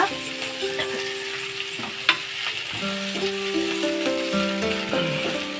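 Coriander and mint sizzle steadily in a hot pan for a double masala chicken sambar, a continuous close frying hiss with occasional stirring scrapes over sustained tonal hum.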